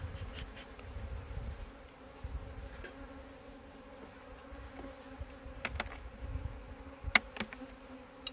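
A steady, dense buzzing of many honeybees close by at an open laying-worker hive being smoked, with a few louder individual bees passing near, and no talking.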